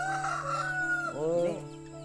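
A rooster crows once in a rising, drawn-out call, close and fairly clear, with faint background noise.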